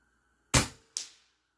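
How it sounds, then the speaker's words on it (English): Two sharp shots from an Air Venturi Avenge-X PCP air rifle, fired outdoors with a Maple Custom Products magazine, each a crisp close crack with a quick decaying tail, about half a second apart. "Let's shoot the standard capacity Maple Custom Products magazine."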